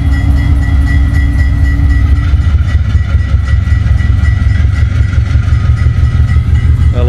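Diesel locomotives BB36-7, U20C and G12 fill the scene with heavy engine drone as the train pulls away, loud and steady with a rhythmic rolling clatter and no talk.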